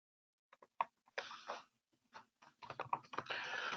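Typing on a computer keyboard, bursts of quick key clicks with short pauses between them, close and fairly quiet, no talking.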